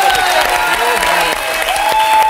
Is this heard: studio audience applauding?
yes